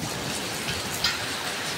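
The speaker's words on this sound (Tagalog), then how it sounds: "Daming yelo. Muulan ng yelo. Ayan o, ang ingay." Hail pelting parked vehicles and a tricycle during a rainstorm, a dense, steady patter of ice hitting hard surfaces with one slightly louder impact partway through, no voices.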